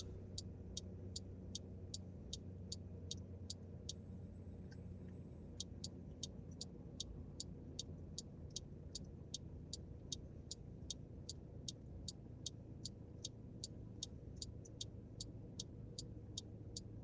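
Car interior while driving on the road, with a low steady engine and road rumble and a regular high ticking, likely a turn signal, repeating throughout, no talking.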